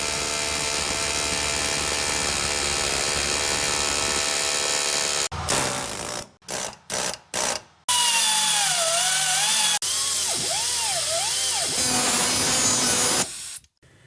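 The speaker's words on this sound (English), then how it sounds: "Using one of the skinnier tips on the air hammer" Loud, sustained mechanical hammering from a pneumatic air hammer with a skinny tip, working on a 2007 Subaru Impreza rear suspension knuckle, roars for several seconds, breaks into short bursts, then continues steadily with shifting whines and rattles, close by.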